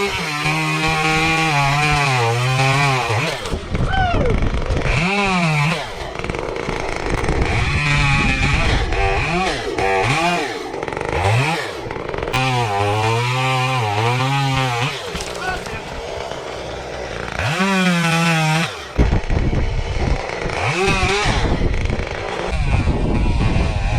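Chainsaw cutting tree branches that hang over a fence, running loud and close almost throughout, its engine rising and falling in pitch as it bites into wood, with brief pauses between cuts.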